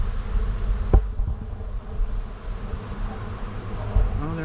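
Bees buzz close by during a hive rescue, a continuous dense hum with a few louder knocks and brief shifts in pitch as the colony is lifted with a hive tool.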